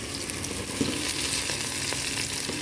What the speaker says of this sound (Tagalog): sa susunod natin ilalagay ay ang ating ginayat na mushroom